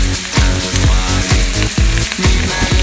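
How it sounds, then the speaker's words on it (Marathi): Semolina-coated marinated chicken frying on a hot griddle at an outdoor jungle cooking spot in Mollem, Goa. It makes a loud, steady sizzle, broken by sharp clicks and scrapes every half second or so. "आता आम्ही रवा लावून डायरेक्ट तव्यावर घालूया."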